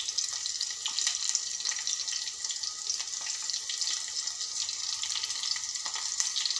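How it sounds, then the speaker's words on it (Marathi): Chopped onion, green chili and garlic fry in a pan, giving a steady, soft sizzling hiss that runs evenly throughout without any talk. "हलकासा कांदा शिजल्यानंतर त्यामध्ये मी 1 बारीक मिरची चिरलेली घातली आहे व 2 लसणाच्या पाकळ्या बारीक चिरून घातल्या आहे"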